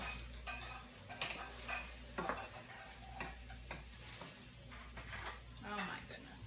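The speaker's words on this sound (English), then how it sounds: "You just want to stir it a couple of times." Spoon stirring seasonings into turkey bean chili in a pot, a series of soft scraping and clinking strokes against the pot, irregular and fairly quiet, with a low hum beneath.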